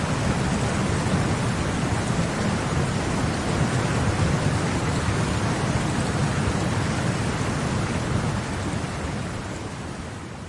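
Heavy rain pours during a powerful thunderstorm in Xi'an, a dense, loud, continuous roar of rainfall with deep rumbling underneath, easing slightly toward the end.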